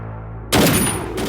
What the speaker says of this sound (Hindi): सर गोली चला दी